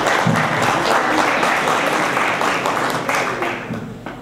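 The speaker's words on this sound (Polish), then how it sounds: "Brawa." Audience applause at a World Health Day 2015 gathering with teachers and students: a loud, steady wash of many hands clapping that carries on alone and fades slightly toward the end.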